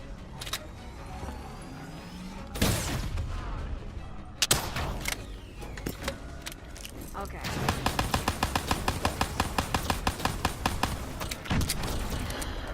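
Gunfire and explosions in the video game Call of Duty: Black Ops 3, with heavy booms early on and a rapid rattling burst of automatic fire later, layered over a constant dense background of game noise.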